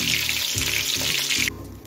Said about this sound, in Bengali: এখন আমি মাথাগুলো ভেজে নিচ্ছি, একবারে ভাজবো না, দুবারে ভেজে নেব।